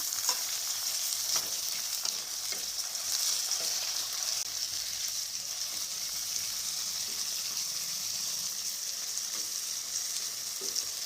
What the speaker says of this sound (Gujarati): હવે આની અંદર મેં 2 ટામેટાં કાપીને રાખ્યા છે એ ઉમેરીશું।